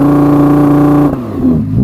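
An Audi R8 V10 rear-wheel-drive engine revs hard on launch control, a loud, steady, high-pitched droning howl held close up before it drops away abruptly.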